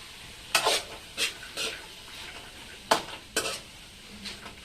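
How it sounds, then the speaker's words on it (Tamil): Peas, carrot and beans are sautéed in a pan, giving soft sizzling and a few scattered stirring scrapes and clinks of a spoon against the pan, fairly quiet with no talking. "அதை 1 நிமிஷம் வதக்கிடலாம்."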